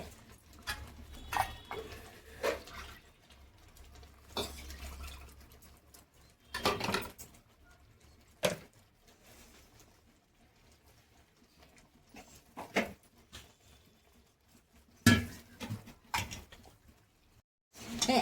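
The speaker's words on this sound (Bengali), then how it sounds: "মিক্সির বাটিটা ধুয়ে দিচ্ছি" A mixer grinder bowl being washed in a home kitchen, with scattered clattering knocks and brief splashy bursts at irregular intervals, fairly close and with no one talking.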